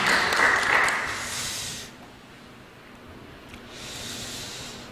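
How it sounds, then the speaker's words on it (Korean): A church congregation in Toronto claps in welcome, with a loud burst of applause that fades into a quiet lull before a second round of clapping rises again. "우리 모두를 위해서 환영하고 박수하도록 하겠습니다"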